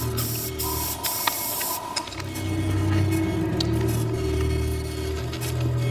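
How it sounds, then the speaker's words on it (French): Toxic gas sprays onto hybrid creatures in a film scene, a strong hissing rush that builds and holds steady under a low rumbling drone, with a few sharp clicks early on. "Maintenant, regardez l'effet du gaz sur ces hybrides."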